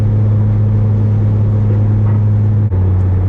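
A C6 Corvette with an SLP exhaust cruising at about 75 mph in sixth gear on the interstate, giving a steady, loud, low droning rumble heard from inside the car.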